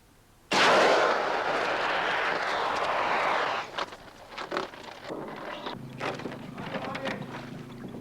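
A red flare ignites with a sudden loud whoosh and hisses steadily for about three seconds, then gives way to quieter rustling and handling noises with a faint hum.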